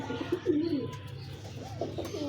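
Ferozpuri pigeons coo softly nearby, several low rolling coos overlapping at a moderate level against a faint background.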